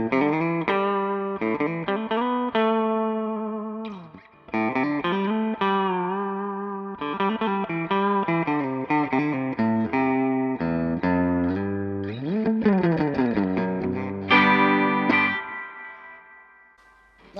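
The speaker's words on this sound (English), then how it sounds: "Reverb. I'm just going to turn up the reverb." An electric guitar plays melodic phrases and chords through a Traynor TS-25 amplifier with its reverb turned up, notes ringing out with a spacious reverb tail, loud and close with no talking.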